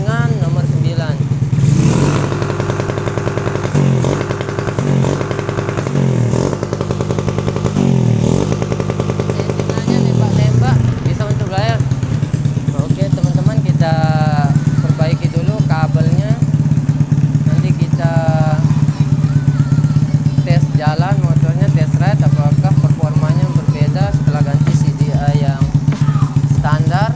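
A Honda C70 motorcycle fitted with a Shogun Edo Pro racing CDI idles loudly and close, blipped in several short revs early on, then holds a steady buzzing drone near its rev limit while someone speaks over it.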